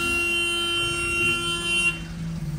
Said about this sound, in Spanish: Ah, qué bonito claxon.